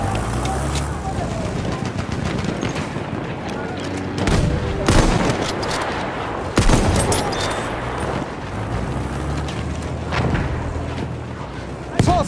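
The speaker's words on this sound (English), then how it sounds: "Machine gun!" Machine gun fire in the World War I shooter Battlefield 1, repeated loud bursts and single cracks amid explosions and battlefield noise, with sharp blasts punctuating a dense continuous din.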